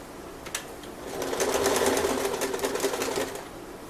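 A sewing machine runs in one steady burst of rapid stitching, sewing the raw edge of a tie onto the angled armpit cut of a dress shirt being made into an apron; the motor rises, holds for a couple of seconds, then eases off.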